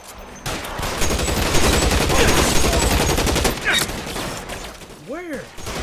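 Gunfire in the video game LA Noire builds into a heavy, sustained volley of close shots, then thins out near the end as brief swooping tones cut through.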